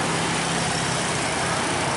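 City buses running in line through central Medan traffic, a continuous low engine and road rumble from passing vehicles, steady and moderately loud with no talk.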